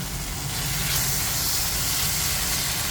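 Beef hitting a lightly oiled pan for a quick stir fry with pechay, a dense, loud, close hiss and sizzle running unbroken, with a low rumble underneath.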